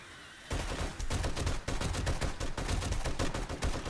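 Rapid gunfire from 7 Days to Die fills the sound after a brief quiet start, loud bursts of repeated shots with an uneven rhythm, dense and continuous to the end.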